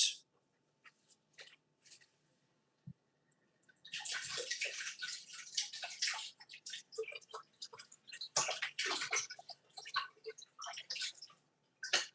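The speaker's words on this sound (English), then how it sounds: "gotta rinse this out" Running water splashes over iced coffee maker parts as they are rinsed at a sink, in irregular bursts of spattering and dripping with quiet gaps between, close by and without talk.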